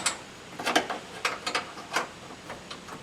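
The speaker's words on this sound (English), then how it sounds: "I'll be able to get a wrench in here and help tighten them down a little bit better" A ratcheting wrench, an 11 or 12 mm, snugs down nuts on graphite compression gaskets, giving short bursts of close metallic clicks in irregular clusters with pauses between, no talking.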